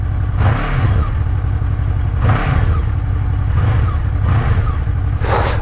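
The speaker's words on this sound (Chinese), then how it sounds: "还有回火声的。" Honda VFR800F V4 motorcycle engine revved repeatedly, four sharp throttle blips each ending in a crackling backfire pop over a steady close idle, with a final burst at the end.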